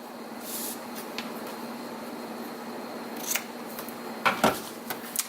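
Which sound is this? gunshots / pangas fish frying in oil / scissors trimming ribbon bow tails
scissors trimming ribbon bow tails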